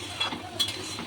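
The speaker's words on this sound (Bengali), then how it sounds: "এই দেখুন নাড়িয়ে নিলাম" A spoon scrapes and stirs chana masala in a pan, giving two quick close scraping strokes over a soft sizzle.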